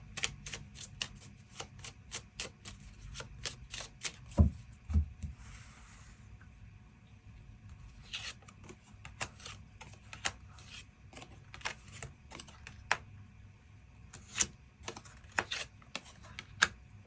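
Tarot cards being shuffled and drawn, with rapid dry close-up clicks and flicks of card stock in irregular clusters and a brief soft riffle partway through, no voice over it.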